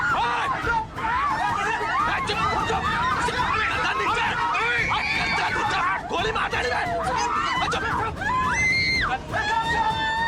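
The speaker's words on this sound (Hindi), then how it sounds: "ये चीखें सुन रहे हैं ना राजू साहब?" Passengers aboard a hijacked plane scream and cry out in a dense, chaotic mix of overlapping voices and wails, with rising shrieks toward the end, loud and continuous throughout.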